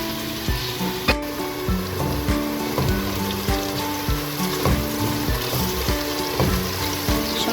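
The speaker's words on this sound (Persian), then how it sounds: "کدو رو سرخ میکنه" Zucchini fries in a pan with a steady, close hiss and sizzle, broken by faint regular clicks and pops.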